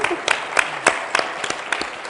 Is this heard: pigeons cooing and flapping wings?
no